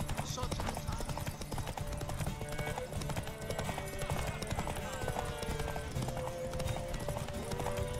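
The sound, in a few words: horse galloping in race, video game The Witcher 3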